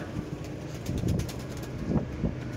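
Racing pigeons in a loft coo in soft, low, rounded bursts. Two or three calls repeat close by over faint background noise.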